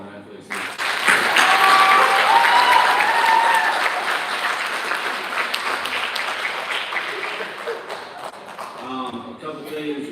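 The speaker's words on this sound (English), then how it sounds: "Let's give one big last round of applause to all our athletes." A high school winter sports banquet audience applauds the athletes, a full, loud burst of clapping that swells quickly, then slowly thins, with cheering voices mixed in and a few trailing claps near the end.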